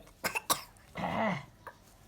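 A mother who is unwell coughs indoors at home: a few sharp close coughs, then a longer raspy throat-clearing cough, and a faint final cough, with no talking.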